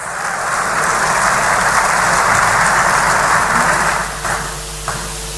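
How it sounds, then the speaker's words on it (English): Audience at a diaspora town hall meeting in London clapping: a dense, loud, sustained roar of hands that swells and then fades out toward the end. "A round of applause,"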